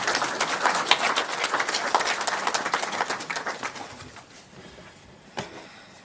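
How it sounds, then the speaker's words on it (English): An audience at a provincial research colloquium gives a steady round of clapping to welcome a guest speaker. The applause is dense at first, then thins and fades toward the end. "give him a very warm round of applause as our guest speaker"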